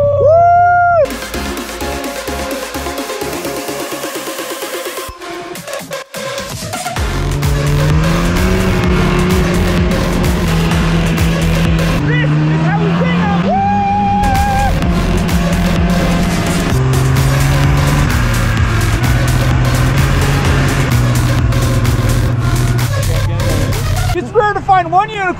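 Snowmobile engine running loud and steady while riding through deep powder snow, rising and shifting in pitch as it accelerates, with voices talking over it and a brief gap near the start.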